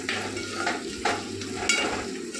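Pork frying in oil with ginger, garlic and chicken masala, a continuous close sizzle broken by periodic scraping stirs of a utensil against the pan, no speech.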